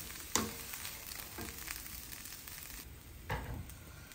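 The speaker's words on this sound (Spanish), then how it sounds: "Que se dore nomás la cebollita" Onion fries in a pan for a Mexican picadillo, giving a soft, steady sizzle close by, with a couple of brief clinks or stirring knocks from the pan and no talking.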